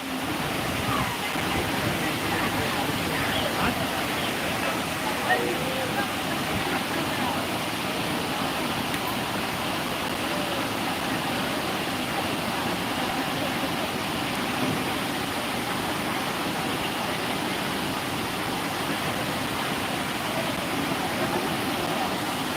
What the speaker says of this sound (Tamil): பாருங்க தண்ணி எப்படி அருவியாட்டம் கொட்டிக்கிட்டு இருக்கு